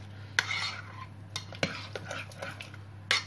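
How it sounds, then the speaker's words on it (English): Eggs beaten together in a bowl for a quiche, light irregular clinks and taps of a utensil against the bowl over a soft scraping swish, close and quiet. "Just try and combine the egg as best as you can"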